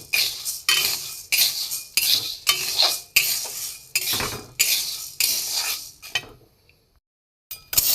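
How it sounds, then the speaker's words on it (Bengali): Green moong beans are dry-roasted in a hot pan while being stirred, giving brisk repeated scraping and rattling strokes about twice a second. The stirring stops briefly near the end, then resumes, with no voices. "দেখুন মুগ কড়াইটা প্রথমে আমি একটু শুকনো খোলায় নেড়ে নেব।"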